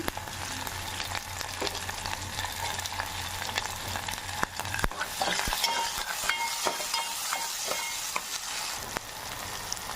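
Cut onion with curry leaves sizzles steadily in a pan for brinjal curry, a continuous close crackle broken by sharp scrapes and clicks of a stirring spoon.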